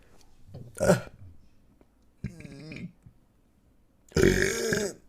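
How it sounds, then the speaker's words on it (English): Several loud, croaky burps come one after another with short gaps between them, close to the listener and heard with no talking. "that shot a burp right into my fucking throat"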